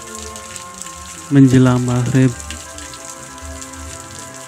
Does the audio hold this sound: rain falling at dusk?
yes